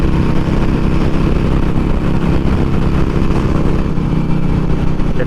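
A 2020 Harley-Davidson Iron 883 motorcycle cruising on the highway, its engine droning loudly and steadily with heavy wind rumble throughout, no voices.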